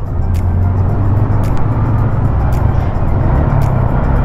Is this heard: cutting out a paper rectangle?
no